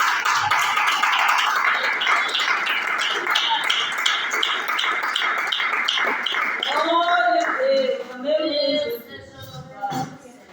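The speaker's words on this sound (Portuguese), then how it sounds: "As palmas." A church congregation claps together in a steady rhythm during a Pentecostal service, the applause dense and loud through most of the stretch before easing off, with voices and singing rising over it toward the end.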